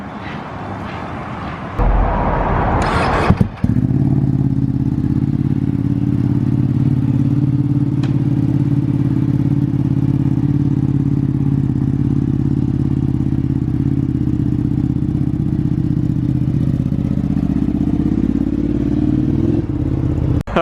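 A Ducati V2 Panigale is moved out with a brief clatter and scrape, then its engine idles loud and steady at close range in a low, even drone that continues throughout.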